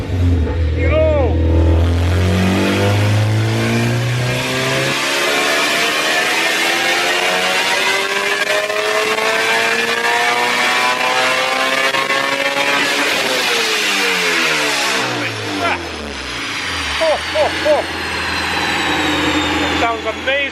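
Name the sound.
Honda Civic Si engine revving with Mugen exhaust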